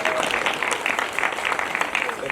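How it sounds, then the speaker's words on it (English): Applause for dancers at a Rwanda Day ceremony during an East African Community trade event: a steady, dense round of clapping from a crowd, sustained evenly throughout without any break. "I think our dancers really deserve a real round of applause"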